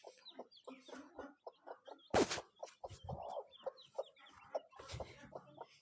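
A hen clucks in short repeated bursts while pecking at finely ground feed beside her chicks, with soft chick peeps and one sharp louder squawk in between.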